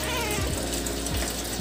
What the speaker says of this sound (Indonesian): Ini kucing gue berisik banget.